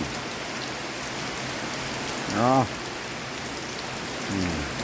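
Steady rain falls at a rice-farm hut in the countryside, a dense even hiss throughout, with a voice speaking briefly twice over it.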